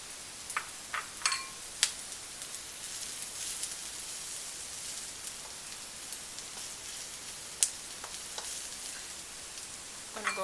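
Mushrooms and vegetables for a vegan stir fry sizzle steadily in an oiled pan, a continuous hiss broken by scattered sharp pops and crackles, heard alone.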